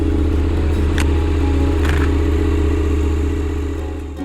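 Motorcycles pull away together, their engines rumbling and revving close by in a steady mid-pitched drone that slowly fades as the bikes ride off, with a couple of brief clatters over the top.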